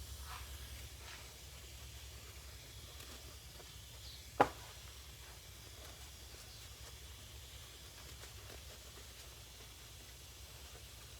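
Brake cleaner sprayed onto brake parts of a 1982 Suzuki GS1100 motorcycle, a quiet steady hiss held through the stretch with one sharp knock partway, faint and without talking.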